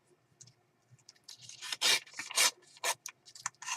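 Paper is slowly torn into a strip for a peacock-themed handmade journal, a close series of short rasping rips that grow louder in bursts, with no talking.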